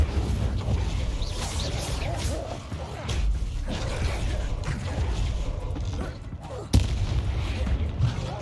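Fire spells cast in Hogwarts Legacy burst out in repeated whooshing blasts and rumbling booms amid ongoing game clamor, with one sharp crack standing out near the end.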